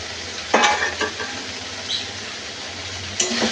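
Ground turmeric, coriander, cumin and chilli powders frying in a pan for a potato, pointed gourd and prawn curry, with a steady close sizzle, a couple of scrape-and-stir bursts and faint clinks.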